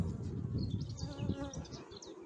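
A dense, steady buzz of many honeybees at a hive during a heavy rapeseed nectar flow hums close by, a continuous low drone with occasional higher whines of individual bees passing.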